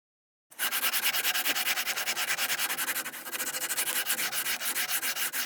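A rasp with fine teeth is drawn back and forth along a wooden ukulele neck, making a close, steady run of rapid rasping strokes with a brief dip midway, no voices.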